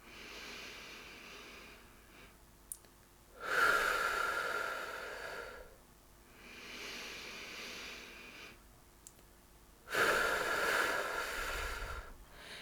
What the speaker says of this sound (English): breathe in for a count of 3 and then breathe out for a count of 3